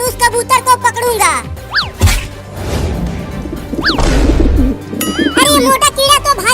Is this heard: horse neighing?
no